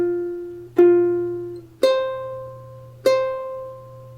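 Ukulele notes plucked one at a time, four clear ringing quarter notes in an even, unhurried measure, each decaying before the next, played alone.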